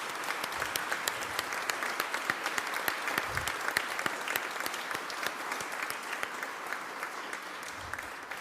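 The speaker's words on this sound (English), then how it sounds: "I want to make sure that they get a round of applause as well." An audience at a press conference with the governor on gun-related bills breaks into a round of applause, dense, even clapping sustained for several seconds with sharp individual claps standing out.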